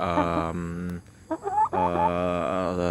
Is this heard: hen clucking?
yes